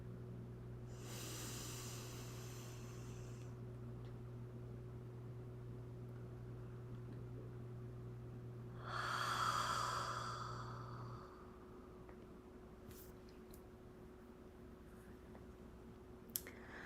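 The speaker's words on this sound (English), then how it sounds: "I got a nice yawn on that last one." A person yawns during a slow breathing exercise: a long, soft, breathy exhale near the mic, followed later by a louder drawn-out yawning breath, over quiet steady hum.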